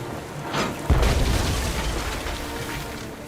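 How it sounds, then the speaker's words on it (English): A ship's cannon in the Tales of Monkey Island video game fires one deep, loud boom, followed by a long rumbling roar that slowly fades. "Then empty the cannons on him, me hearties!"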